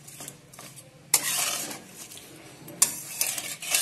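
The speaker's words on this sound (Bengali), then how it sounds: "ভালো করে মাছটাকে মশলা দিয়ে ভালো করে মাখিয়ে নিতে হবে" A spatula scrapes and clanks against a metal pan while working spices into koi fish for tel koi, with two sharp clatters and bursts of rubbing scrape, close and clear, no talk.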